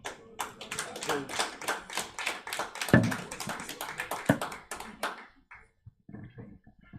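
Applause from an audience at a union leadership conference, a dense run of many hands clapping for about five seconds before thinning out into a few scattered claps and quiet murmurs.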